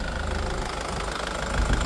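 A SsangYong Action 2012 with a 2.0 diesel engine idles up close, a steady knocking diesel rumble that swells slightly near the end.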